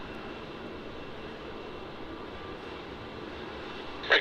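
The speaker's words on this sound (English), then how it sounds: "Our next arrival is going to be Air New Zealand flight NZ211 from Christchurch. This is an Airbus A320neo" An Air New Zealand Airbus A320neo arriving at Melbourne Airport gives a steady, fairly distant jet-engine rumble and hiss that holds evenly, with a brief louder burst right at the end.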